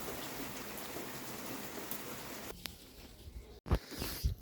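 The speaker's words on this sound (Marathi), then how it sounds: "थोडाच पाऊस पडला" The season's first rain falls outdoors, a soft, steady patter and hiss of drops filling the air for a few seconds, then thinning out as a few close handling bumps and rustles take over.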